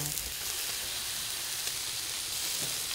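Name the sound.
duck sizzling on charcoal grill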